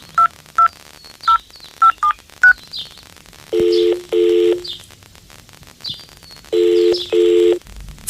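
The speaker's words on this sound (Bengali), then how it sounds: "অনুপম ফোন করলো রাকার শ্বশুর বাড়িতে" Telephone keypad tones are dialed one by one, a quick series of short beeps followed by longer, louder ringback-style tones in pairs, clear and close within a Bengali audio story.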